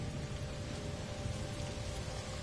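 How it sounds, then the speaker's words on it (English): Acid rain falls as in-game weather in No Man's Sky, a faint, steady hiss of rainfall with no talk. "The weather is acid rain."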